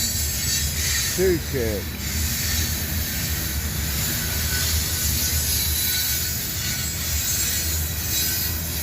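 A train rolls past in Abbeville with a loud, steady rumble of wheels on rail. A brief, high wheel squeal cuts through early on, and a voice speaks briefly.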